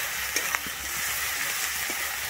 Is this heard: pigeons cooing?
no